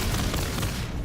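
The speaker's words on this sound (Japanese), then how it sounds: "あ、なんか爆発した" A dense, rumbling explosion in No Man's Sky, loud and close, filling the moment with a sustained roar and no talk.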